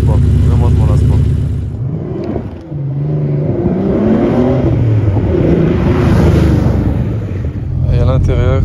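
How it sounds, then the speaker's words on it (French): A Porsche 964's air-cooled flat-six engine roars loudly and close, its pitch rising and falling as it revs, broken by a brief dip before surging again. "Je vous fais écouter le flat 6 de cette magnifique 964."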